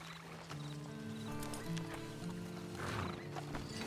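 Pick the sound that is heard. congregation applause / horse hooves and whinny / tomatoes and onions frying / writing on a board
horse hooves and whinny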